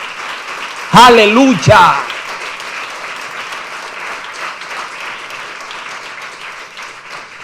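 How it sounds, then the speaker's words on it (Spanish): A church congregation breaks into sustained applause, a dense wash of clapping that stays steady for several seconds, with a loud shouted exclamation from a voice near the start. "Denle un aplauso al Señor"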